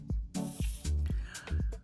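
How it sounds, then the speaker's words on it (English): Quick pumps of a perfume bottle sprayer, the Bellavita Glam Women scent, come through as four close, sharp hissing puffs of mist, each with a soft click, spaced evenly over a second and a half. "Let's go ahead and check out the spray on this bottle."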